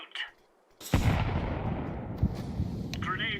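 A grenade explodes in a Counter-Strike match with one sudden loud blast that trails off into a rumbling decay, following a brief faint voice.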